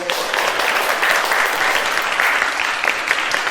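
An audience applauds after Dr. Yohan Kristanto's address at an MC school event, dense, loud, sustained clapping from many hands without a break.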